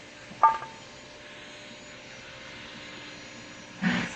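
A Toyota Hilux 2GD diesel engine with a white-smoke fault is revved to clear its turbo. It makes a steady, droning roar with two short louder surges, one at the start and one at the end, and no speech.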